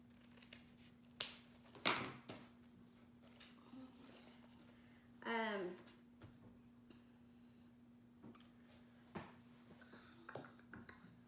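Scissors snip the end of a ribbon while a bow is being made for a wreath, giving a few quiet, close crisp cuts and rustles spaced out in a hushed room.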